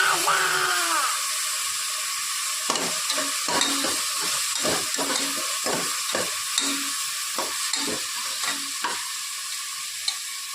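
A ground onion and mint paste sizzles in a hot pan while a spoon repeatedly scrapes and stirs it, giving steady frying hiss broken by rhythmic clinks close by.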